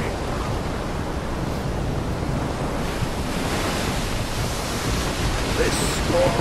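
Stormy sea in the video game Return of the Obra Dinn, with a steady roar of crashing waves and gusting wind that fills the scene continuously and loudly, with no voices over it.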